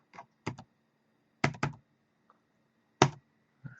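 Typing on a computer keyboard that isn't working well: a few scattered clusters of close, crisp keystrokes with pauses between them, with no voice.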